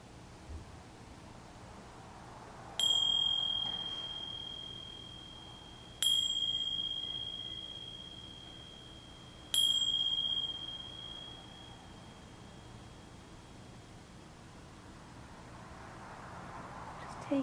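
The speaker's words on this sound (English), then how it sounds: "I'm going to begin this meditation with 3 chimes" Three meditation chimes struck one after another at roughly three-second spacing, each a clear bright bell tone ringing out and decaying slowly over a quiet room background.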